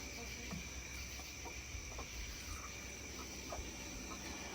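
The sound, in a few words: poult crowing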